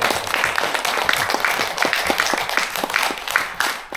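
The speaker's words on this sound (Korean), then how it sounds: "다시 한번 박수 부탁드리겠습니다." A lecture audience in a Seoul National University hall claps steadily, a moderate, evenly sustained patter of many hands at mid distance with no break.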